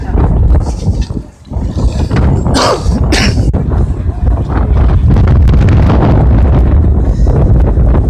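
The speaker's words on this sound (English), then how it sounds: "Away from the wind." Wind buffeting a microphone outdoors at a crowded political rally in Washington DC, a loud continuous rumble that stays strong throughout, with a brief lull early on and voices mixed in underneath.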